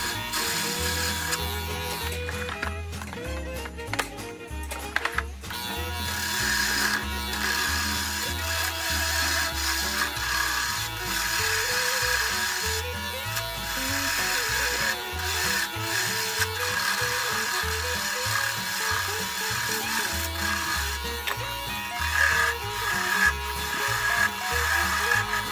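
A skew chisel shaping the stem of a turned wooden acorn Christmas ornament on a lathe, a steady, continuous scraping and hissing cut over the lathe's hum, with no talk.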